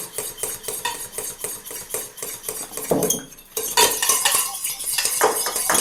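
Metal spoon stirring a lemon juice and oil dressing in a bowl, with rapid rhythmic scraping and clinking against the sides, close and fairly loud, continuing steadily with a brief pause midway.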